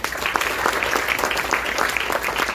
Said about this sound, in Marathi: तर या सर्वांसाठी एकदा जोरदार टाळ्या होऊ द्या.